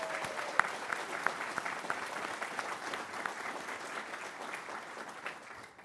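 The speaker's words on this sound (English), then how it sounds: "A big round of applause, please." An audience at a summit welcome session applauds the new Warden of the United Counties of Leeds-Grenville. The clapping is dense and steady, a few sharper claps standing out, and it fades slightly toward the end.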